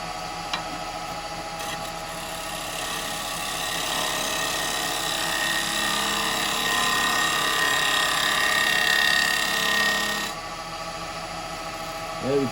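Yew bowl being turned on a wood lathe, a steady broadband cutting rasp of the gouge taking fine shavings that swells slightly and runs for about ten seconds before easing off, with the lathe hum underneath.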